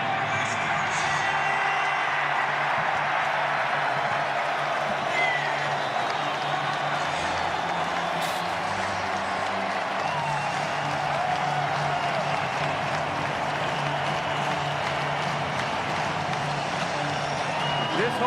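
Large stadium crowd at Camp Randall roaring and cheering steadily as the Wisconsin Badgers run onto the field before facing Alabama, a dense, continuous wash of noise with scattered whoops and applause throughout.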